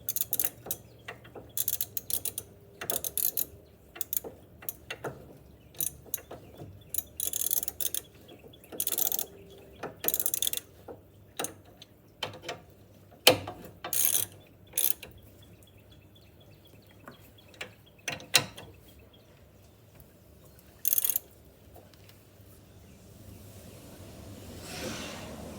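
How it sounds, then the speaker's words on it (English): Ratchet wrench turned slowly by thumb on a Jeep Compass front brake caliper, giving irregular sharp clicking bursts with gaps, close and fairly loud, no talk. "I'm hand turning this with my thumb on the ratchet."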